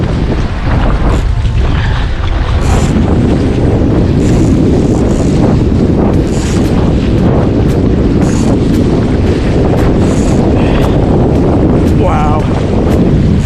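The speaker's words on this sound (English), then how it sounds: "Got some nice waves to surf." Strong wind buffets the microphone in a constant roar while sailing a dinghy, mixed with rushing water and splashing waves, close and loud throughout.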